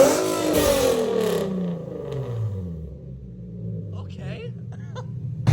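An Infiniti G37 with a resonated Y pipe exhaust revs up, then its deep exhaust note falls away and settles into a low rumble, with someone speaking over and after it.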